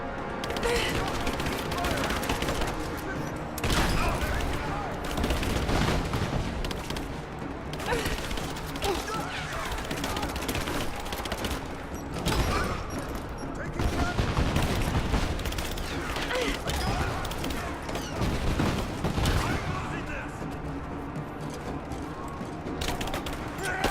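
Dense, sustained gunfire fills a firefight in the video game Rise of the Tomb Raider, with repeated rapid bursts and heavy impacts layered under game music and clatter, loud and nearly continuous throughout.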